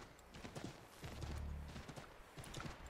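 A horse gallops in Assassin's Creed III, with rapid hoof beats in a steady rhythm, quiet and fairly close, and a low rumble swelling midway.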